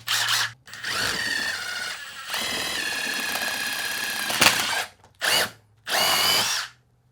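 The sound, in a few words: drilling a hole with drill bit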